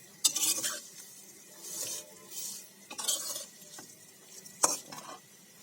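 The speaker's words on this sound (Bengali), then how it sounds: "সেমাইটা ভালো মতো ভেজে নেব।" Semai vermicelli fries in a pan, stirred in repeated bursts: scraping spatula strokes against the metal and dry rustling sizzle come in uneven pulses roughly every second, close and moderately quiet, with no talking.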